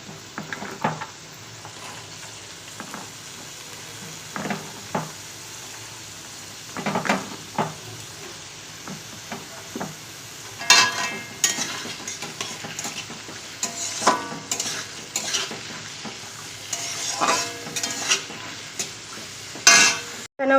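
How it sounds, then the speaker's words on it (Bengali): Carrots stirred and frying in a pan with beans for home-made chowmein: a low background sizzle under repeated spatula scrapes and metal clinks, growing busier and louder in the second half. "এই বিনস ভাজা হয়ে গেছে, এখন আমি এর মধ্যে গাজর দিয়ে দেবো।"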